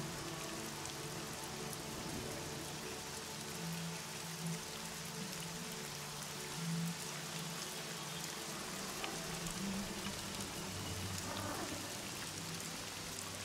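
A steady, soft rain ambience for a tabletop campaign scene, with continuous patter of drops on a surface and no voices.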